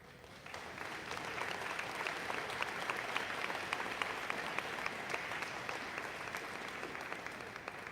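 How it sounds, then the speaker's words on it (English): An audience at a school prize day ceremony claps steadily, a dense, even wash of applause that starts abruptly and holds at a moderate level for several seconds. "let's have another round of applause for our"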